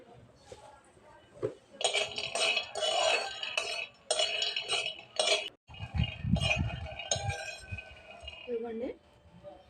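Lentils and spices for gongura powder rattle and scrape in a pan as a spatula stirs them in bursts of metallic clinking, with a voice talking partway through and a softer clatter near the end.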